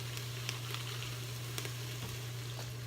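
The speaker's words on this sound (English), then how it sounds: "You have to sautee the stems. Use a little bit more vegetable broth." Swiss chard stems sauteing in vegetable broth give off a steady, gentle sizzle with occasional small pops and a constant low hum beneath, with no voices.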